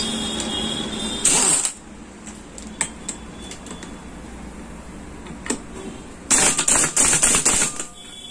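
A wrench ratchets as it tightens a clutch bolt on a Splendor Plus 100cc motorcycle, two close bursts of rapid metallic clicking separated by quieter handling noise and a few light taps.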